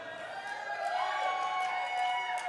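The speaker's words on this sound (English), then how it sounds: "when your station appears, we want to hear your cheer" A hospital radio awards audience cheers and whoops for its nominated station, a bright crowd roar heard through a hall amid lingering tones.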